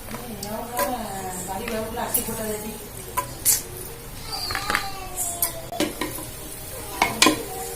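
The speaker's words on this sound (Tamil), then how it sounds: "நல்லா கிஸ்மிஸ் பொரிஞ்சு வருது" Raisins sizzle and fry in hot oil in a pan for Tirunelveli-style mutton dum biryani, with a spoon stirring and scraping at intervals and a person talking over the cooking.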